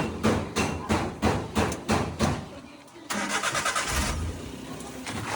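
A Suzuki DA65 engine cranks with several rhythmic starter pulses, pauses briefly, then catches and runs with a steady, busy idle close by.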